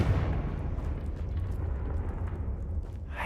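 A Confringo blasting spell goes off in Hogwarts Legacy, giving a dense, rumbling, low-heavy blast that rolls on steadily for about three seconds, loud and close, with no talk over it.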